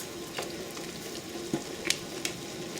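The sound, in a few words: stirring hotpot ingredients with cilantro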